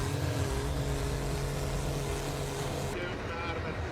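A powerful 200-plus HP diesel engine on a heavy Forsby tractor weighing over 18,000 pounds drones loudly and continuously as it works a field. It sounds like a dense, steady rumble that cuts off abruptly near the end.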